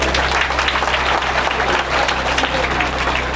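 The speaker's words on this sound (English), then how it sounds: "when I go clap for this foundation before I go forward" An audience at a community gathering in Sierra Leone claps for a charitable foundation. The applause is loud and continuous, with a steady low hum underneath and no speech on top.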